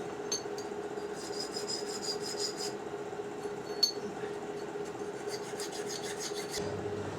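A needle file rasps against the sharp corners of a small metal locomotive axlebox in steady back-and-forth strokes, close and fairly quiet, with one brief clink midway.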